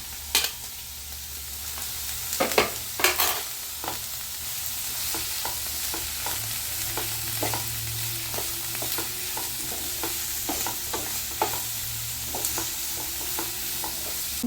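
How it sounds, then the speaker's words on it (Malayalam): Onion, capsicum and tomato fry in a pan at home for a paneer sandwich filling, with a steady low sizzle and repeated sharp scrapes and clinks of a spatula stirring throughout. "സവാള സോട്ടായി വരുമ്പോഴത്തേക്കിന് ക്യാപ്സിക്കം സോട്ട് ചെയ്യാനായിട്ട് അതിൻ്റെ കൂടെ തന്നെ ഇട്ട് കൊടുക്കാം"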